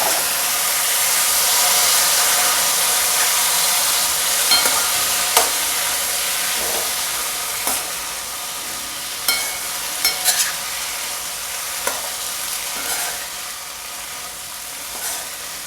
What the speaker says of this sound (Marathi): आपण चणे टाकून घेऊयात.